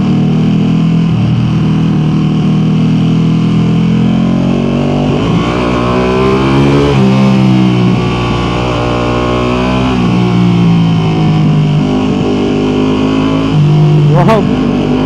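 A sport motorcycle engine, a Ducati Panigale V2, revs and accelerates loudly with rising and falling pitch through gear changes, finishing with a sharp exhaust pop, while a rider talks over it.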